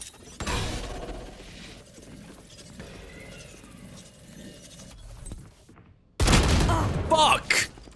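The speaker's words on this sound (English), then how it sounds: "Oh, they're shooting through the ice. They broke through the ice." Gunfire shattering an ice wall in Valorant: a burst of shots and cracking impacts at the start, a quieter stretch with faint game noise, then a loud rattling volley near the end, with talk over it.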